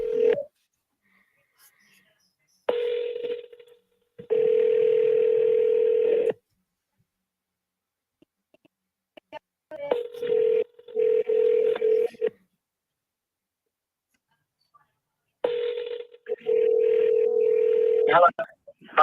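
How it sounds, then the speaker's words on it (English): An office telephone gives a steady dial tone, then a series of DTMF keypad beeps as a number is dialed by hand, in several separated bursts with quiet gaps between them. "I'm gonna make a dial right now. I hate hand dialing"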